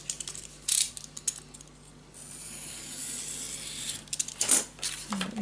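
Scissors cut paper from mark to mark for a keepsake treehouse box, giving a few close, crisp snips and a soft rustling slide of the blades across the sheet.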